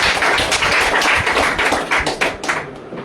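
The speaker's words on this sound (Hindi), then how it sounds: "ताली बजाएं, प्रभु धन्यवाद देंगे।" A church congregation claps hands during a Sunday worship service, a dense, steady wash of many overlapping claps that carries on for a few seconds before thinning out.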